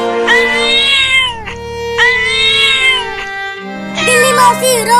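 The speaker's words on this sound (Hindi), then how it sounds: "बिल्ली मौसी रो मत" A cartoon cat cries and meows in long, loud, wailing mews, three drawn-out cries in a row, close and clear with no other sound around them.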